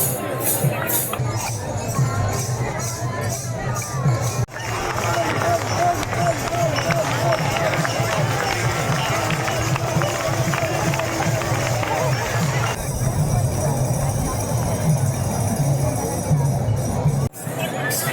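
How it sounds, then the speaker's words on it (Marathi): A large crowd of pilgrims roars at the round ringan ritual of Sant Dnyaneshwar Maharaj's palkhi at Khudus, where the horse runs the circle. The clamour of many voices stays loud and unbroken throughout. "रिंगणातला जल्लोष वाढत चाललाय चलबिचल वाढत चालले आवाज कुळबुळ कुळबुळ वाढत चाललेले आहे"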